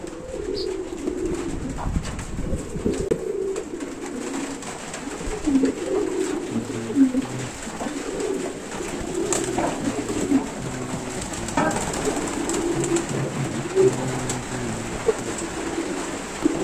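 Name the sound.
pigeons cooing while bathing in the rain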